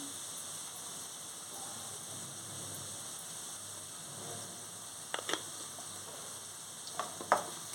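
Cucumber pieces frying in a pan with turmeric, salt and asafoetida give a steady, soft sizzle throughout, with a few sharper scrapes or stirring knocks near the end and no voices.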